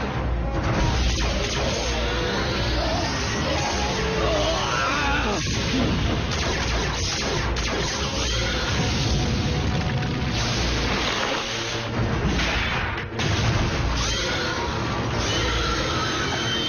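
Transformers Prime cartoon battle between Autobots and Decepticons, with dense, continuous blaster fire, crashes and booms layered over a loud action soundtrack, voices briefly shouting amid the chaos.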